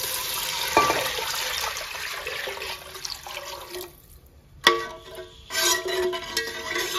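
Water pours into a cooking pot for ghee rice, two cups added to one cup of rice: a steady splashing rush for about four seconds, a brief pause, then more pouring and trickling close by.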